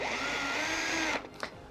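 Power drill boring a hole in a workshop wall with a smaller bit, a steady high whine running for about a second before it winds down, followed by a short knock.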